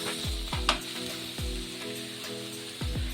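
Carrots for carrot halwa fry in a pan with a soft, steady sizzle, broken by several low scraping strokes of stirring at close range, without any talking.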